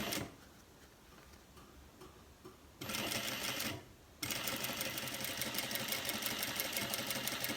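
A sewing machine runs in bursts while topstitching a cargo pants pocket flap 5 mm from the previous seam, with a short start, a pause, then a steady continuous stitching whir close by.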